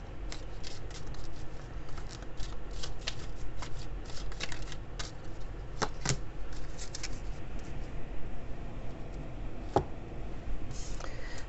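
Oracle cards being shuffled by hand, a continuous soft riffling and flicking close by, quiet and steady throughout with no talking.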